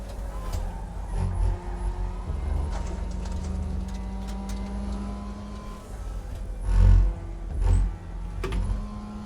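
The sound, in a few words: car tires squealing in a sim racing video game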